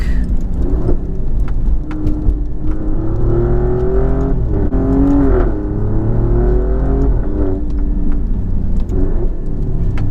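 Interior drone of an Alfa Romeo Giulia QV past 111,000 miles on the road, a loud, steady low engine hum with gentle rises and falls in pitch as it cruises and shifts, road noise underneath, no talking.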